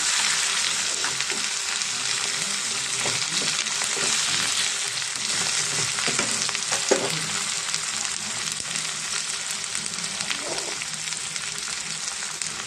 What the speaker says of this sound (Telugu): ఉల్లిపాయలు వెల్లుల్లిపాయలు అల్లం వెల్లుల్లి పేస్ట్ బాగా ఫ్రై అయింది కదండి